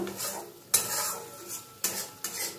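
Coconut milk powder mixed with hot water goes into a pan of cooking masala and is stirred in, with a steady hiss broken by several sharp metallic scrapes of a spoon against the pan, close and clear.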